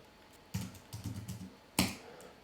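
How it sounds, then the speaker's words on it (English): A username is typed on a computer keyboard: a short burst of quiet, close key clicks followed by a sharper single keystroke, with no talk. "I'm going to type in my username just to get into it first."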